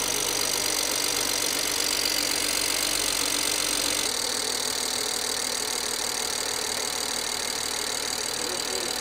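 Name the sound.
BMW 535i E60 engine starting and idling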